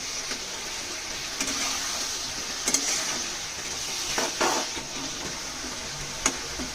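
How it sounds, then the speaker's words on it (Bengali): Spice paste for a Bengali rohu fish curry with tomato sizzles steadily in a pan while being stir-fried, a constant close frying hiss broken by a few sharp scraping clinks of the spatula. "কষতে হবে যাতে লেগে না যায় তলাতে"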